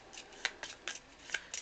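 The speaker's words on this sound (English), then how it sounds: "terrible job of shuffling here on camera" A deck of game cards for Patchwork being shuffled by hand, giving a run of soft, papery riffles and flicks at an even pace, close and fairly quiet.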